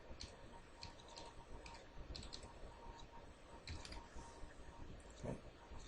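Soft, quick keystrokes on a computer keyboard, faint and close, tapping in short irregular runs against a steady low room hum.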